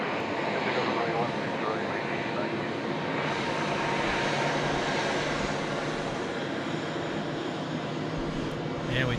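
An airliner takes off from runway 16 right at Sydney Airport, its engines producing a broad continuous roar that holds steady throughout, heard from a distance while a voice talks over it.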